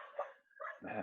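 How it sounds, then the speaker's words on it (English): Dogs bark in the background, a couple of faint, muffled barks in quick succession heard from a distance. "I'm sorry if you can hear dogs barking in the background."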